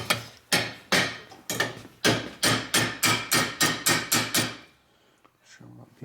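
Ball peen hammer blows flattening metal on a part from a 1983 Harley-Davidson FXRT shovelhead, held in a vise: about a dozen close, loud ringing strikes that speed into a quick run, then stop before quieter knocks and a voice.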